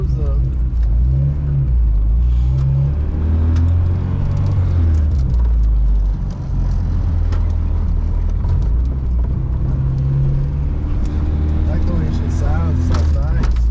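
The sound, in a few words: Honda Civic engine revving during ride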